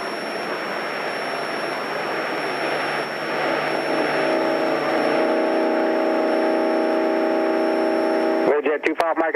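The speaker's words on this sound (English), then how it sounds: "The big jet taking off there." Big jet aircraft taking off at an airport, heard from a small training plane during a flight lesson; a steady broad roar builds over several seconds, with speech over the radio near the end.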